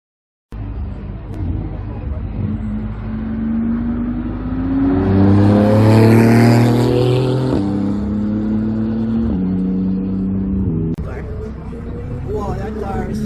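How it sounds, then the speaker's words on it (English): An exotic race car speeds along a track, its engine rising to a loud, revving pass before settling into a steady drone, with people talking excitedly over it. "that car is driving fast"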